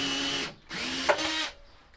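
A power drill whirs in two short bursts while backing a rusted screw out of a van roof, a close, loud motor whine with a brief pause between runs.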